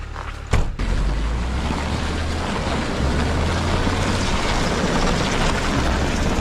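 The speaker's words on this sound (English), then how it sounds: "Engine's warmed up. Let's see if we can get out of here." A warmed-up engine at an outdoor campsite, running steadily with a loud low droning rumble after a brief knock at the start, continuous and close throughout.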